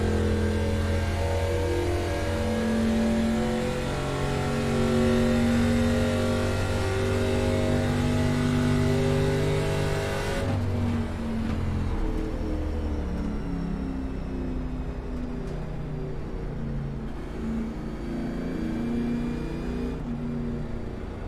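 Race car engines in the iRacing game, running at Pocono in a NOSSCAR Elite National Series race and lined up behind the pace car, hum and rev steadily. The drone shifts pitch midway as the cars accelerate.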